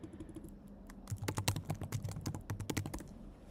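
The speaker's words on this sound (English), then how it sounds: "Let me see if I just type in Sailor" Someone types on a computer keyboard, a run of crisp, close key clicks that speeds into a quick burst of tapping after a quieter start.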